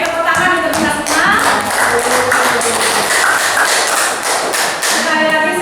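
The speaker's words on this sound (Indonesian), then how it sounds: "tepuk tangan untuk kita semua" Applause from participants at an Indonesian teachers' training session: dense, close clapping fills the room at a steady level throughout, with some thumping hand hits and a voice faintly mixed in.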